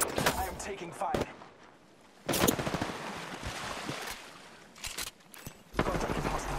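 Gunfire in the Apex Legends video game, with several sharp bursts of shots separated by quieter stretches, fairly loud and close, with game voice lines mixed in.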